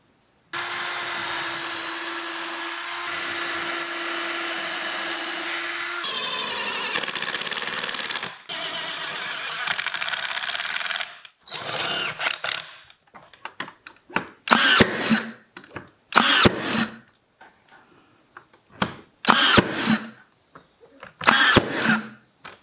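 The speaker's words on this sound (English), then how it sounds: "I'm going to glue and screw it onto the base of this" A power drill drives screws into a pallet wood cabinet base, first a long steady whine, then a series of short loud bursts with pauses between them, close by.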